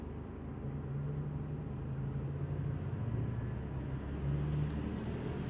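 A Chrysler PT Cruiser engine with a pending cylinder misfire runs at a low, steady hum that rises gently in pitch as the revs climb, heard close and fairly quiet with no voices.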